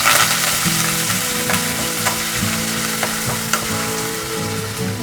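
Ginger, garlic and green chili paste fries in hot oil, a loud, dense crackling sizzle broken by tonal scraping and stirring strokes throughout, with no talking.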